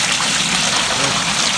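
Water pouring steadily into a container on a farm, a loud, close, continuous splashing gush with no breaks.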